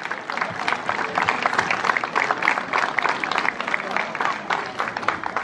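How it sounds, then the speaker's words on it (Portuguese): Audience applause at the close of a marchas (popular street march) event in Loriga, 2023: a dense, steady wash of many hands clapping, sustained and fairly loud throughout with a crowd murmur underneath. "Um grande, grande aplauso."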